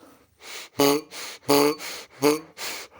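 Air is blown back and forth through a scooter's reed (petal) intake valve in four short, breathy bursts, each with a reedy, buzzing tone, close and fairly loud.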